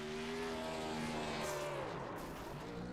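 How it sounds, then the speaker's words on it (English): Number 2 race car doing victory burnouts at Phoenix: loud engine roar with revs rising and falling, blended with tire squeal and hiss as the car slides, briefly nearing a wall. "Great burnouts for the driver of the number 2 car"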